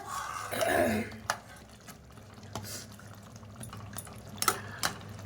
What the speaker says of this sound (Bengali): দেখতেই পাচ্ছ চিংড়ি মাছের ঝোল একদম ফুটে গেছে